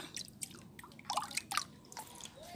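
Liquid fertilizer made from kitchen waste is poured onto the soil at the base of a rose plant, producing faint close dripping and soft splashes in a short uneven run.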